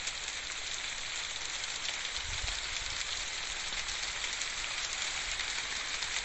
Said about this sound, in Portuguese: É chuva.